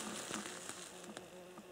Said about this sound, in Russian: он жужжит и быстро летает